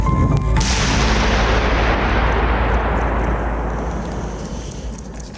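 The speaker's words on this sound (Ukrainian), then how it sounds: "Три, два, один, вибух." A single loud wartime explosion bursts right at the start, then a long rumbling roar that slowly fades over several seconds.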